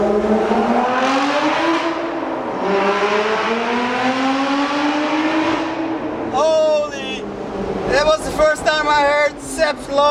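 A Lotus sports car engine revs hard inside a tunnel, its loud, echoing note climbing and falling in long sweeps before breaking into sharp, rapid bursts of revving toward the end.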